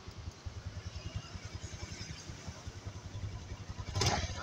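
A carbureted Honda Beat scooter's electric starter cranks after the starter relay is jumpered to ground, a rapid rhythmic churning that runs steadily for several seconds, close and alone.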